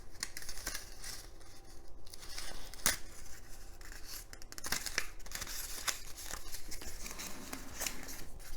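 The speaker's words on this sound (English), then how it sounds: "we'll tape it together" A paper strip taped together into a loop: close crackling and tearing of sticky tape with sharp snaps and crinkles of paper, steady and busy throughout.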